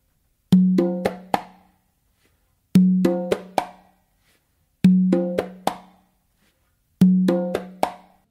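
Cumbia pattern on three congas, heard as four repeated phrases of quick struck hits, each ending in a close slap, with short pauses between, played alone and close.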